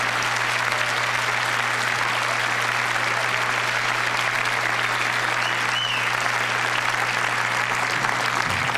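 Sustained, steady applause from a comedy television show's studio audience, dense and even throughout with a low constant hum beneath.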